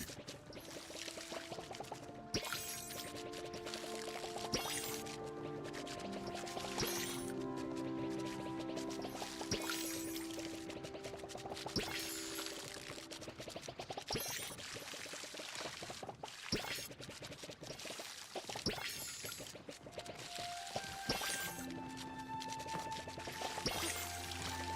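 Water pouring and splashing steadily while watering trees in the video game Palia, layered over game music with sustained tones, continuous and fairly close.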